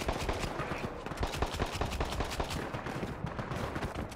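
Rapid, dense gunfire in the looter-shooter Borderlands 3, sustained bursts of shots rattling continuously at close range, loud throughout with no pauses.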